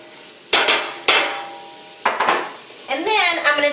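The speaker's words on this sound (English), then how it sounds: "I'm just going to stir these around" Onions in sausage drippings get stirred in a pan: several sharp clanks and scrapes of a utensil against metal over a faint sizzle, with a gurgling scrape at the end.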